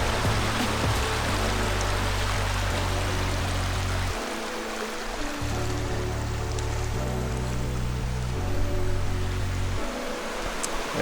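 Burrell Falls in Panthertown Valley, Nantahala National Forest, pours in a steady broadband rush heard from the bottom of the falls. The roar is constant, with a low rumble that comes and goes.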